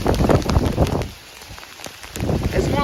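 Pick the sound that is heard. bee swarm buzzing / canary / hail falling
hail falling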